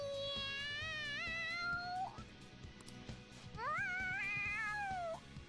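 A cat in the Persona 5 Royal video game meows excitedly in two long rising-and-falling calls separated by a short pause, clear and prominent over faint game background sound.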